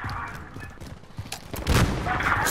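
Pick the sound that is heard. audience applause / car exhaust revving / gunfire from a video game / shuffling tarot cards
gunfire from a video game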